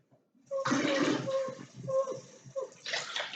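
Water pouring into a cup in a kitchen while making Easter egg decorations, a short splashing pour that starts and stops, with a brief second burst, and faint voices in the background.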